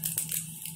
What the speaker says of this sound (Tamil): இப்போ கடுகு போட்டுக்குவோம், போட்டுக்கிறேன்.